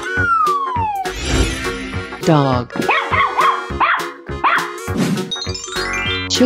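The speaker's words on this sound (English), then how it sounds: "Dog." A cartoon dog barks and yips in a lively, repeated series of short barks over bouncy background music, loud and close throughout.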